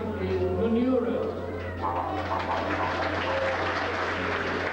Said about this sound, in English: getting a warm round of applause from the crowd here in the stand